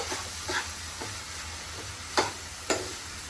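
Grated coconut and jaggery cook in ghee in a pan for a sweet kozhukattai filling, with a soft continuous sizzle broken by a few sharp spatula scrapes and stirs.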